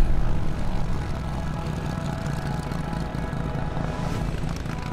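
A small vintage propeller airplane drones steadily at a distance, a loud, even engine rumble with no people talking.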